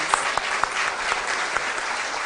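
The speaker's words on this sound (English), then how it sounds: "A round of applause to both teams." A room full of people at a quiz event claps steadily, a dense patter of applause with a few sharper claps standing out.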